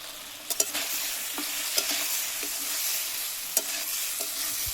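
Chopped tomatoes stir-fried in a pan for a fish curry with kohlrabi give a bright, continuous sizzle, with a few sharp spatula scrapes and taps punctuating the hiss.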